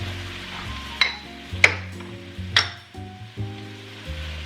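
Brussels sprouts simmer in a honey balsamic sauce in a pan, a low sizzle broken by several sharp clinks and scrapes of a utensil against the pan.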